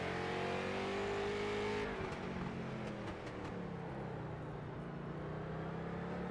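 A race car engine at a Charlotte short-track event, loud and steady, revving high then dropping in pitch as the throttle lifts around two seconds and holding a lower drone with small throttle blips after.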